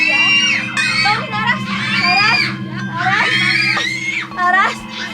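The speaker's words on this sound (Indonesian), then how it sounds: "Kamu denger gak itu teriakan anak-anak?" Children scream and shriek in repeated high-pitched bursts, several loud cries rising and falling over a steady low background hum, close and intense with no calm between outbursts.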